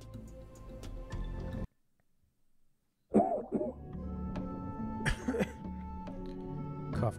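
A character coughs in the video game Dave the Diver, with the cough standing out over steady background game music that breaks off briefly partway through.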